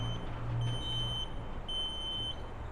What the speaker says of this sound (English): Nice beeping sound.